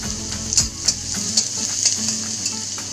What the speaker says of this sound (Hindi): अब मैं इसमें सबसे पहले गार्लिक डाल दूंगी, अच्छे से फ्राई कर लेंगे